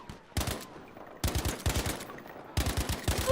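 Automatic gunfire from Battlefield V (2018 open beta) comes in three sharp, rapid-fire bursts separated by short quiet gaps, loud and close, with no talking.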